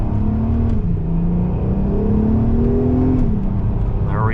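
A VW Golf R32 with a Scorpion exhaust pulls hard and loud from up close, engine note climbing, dropping briefly with a downshift, then rising again before easing off.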